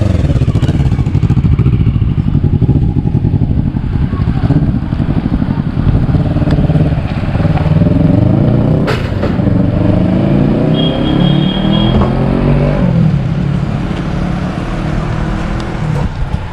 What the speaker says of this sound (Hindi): मुझे जितनी आवाज़ चाहिए थी ना उतनी ये एग्जॉस्ट आवाज़ कर रहा है